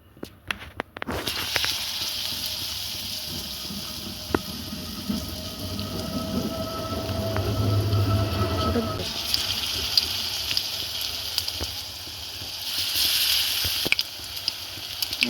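Batter-coated jackfruit chops drop into hot oil and fry with a steady, rain-like sizzle that fills the clip, changing character about halfway through.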